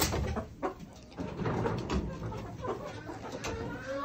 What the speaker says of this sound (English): There are some roosters that we were supposed to get rid of, but they're pretty nice.